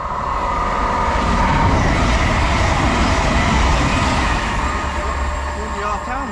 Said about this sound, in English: passing through now, we've got a cross-country service to Plymouth